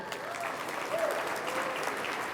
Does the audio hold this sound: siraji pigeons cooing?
no